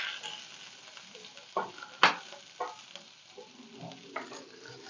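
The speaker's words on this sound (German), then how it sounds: "gebe ich die restlichen Zutaten hier hinzu, die Zwiebeln und die Äpfel. Und die brate ich auch mit an." Onions and apples fry in duck fat in a pan, giving a soft steady sizzle broken by a few louder crackles and stirring scrapes over about five seconds, with no talking.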